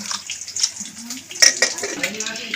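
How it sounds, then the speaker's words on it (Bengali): Cooking water from boiled olives is poured off into a basket, giving a short splashing gush that briefly swells in a kitchen. "জলটাকে ঝরিয়ে নেবো ঝুড়িতে ঢেলে।"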